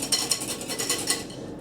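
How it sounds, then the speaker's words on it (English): A utensil stirs and whisks granulated sugar into a chocolate souffle mixture in a bowl, quick rhythmic clinking and scraping strokes close by, fading out toward the end. "Now I'm going to stir that here"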